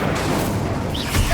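Incendio fire spell cast in Hogwarts Legacy, a short, dense whoosh and crackle with a heavier burst near the end.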